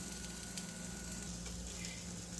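Peppers and snow peas frying in two pots on a stove, a steady soft sizzle with faint stirring clatter, quiet and continuous with no talking.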